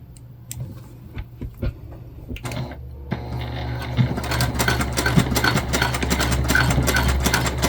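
A sewing machine basting a clip into a wristlet made from upcycled jeans, starting with sparse clicks and handling noises, then running steadily in a loud continuous mechanical whir with rapid needle ticking.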